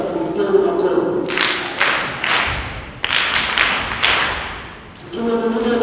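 Applause in a church parish gathering during a confirmation ceremony: bursts of hand clapping swell and fade several times, with voices speaking before and after the clapping.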